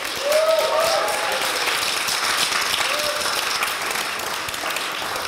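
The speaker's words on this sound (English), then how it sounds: "Let's give them a huge round of applause." Audience applause at a university startup pitch competition finals, a full, steady wash of clapping from a crowd with a faint whistle or voice near the start.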